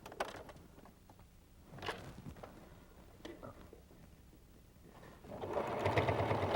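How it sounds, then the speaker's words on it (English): A sewing machine stitches quilt hexagon pieces, starting with a few quiet clicks and thumps before the motor whirs into a steady, close, continuous run. "And we'll sew this piece"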